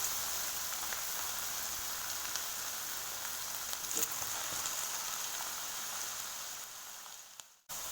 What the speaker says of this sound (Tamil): ஆயில் நல்லா ஹீட்டான பிறகு ரெடி பண்ணி வச்சுருக்க ஃப்ரெஞ்ச் ஃப்ரைஸை ஃப்ரை பண்ணி எடுத்துடலாம்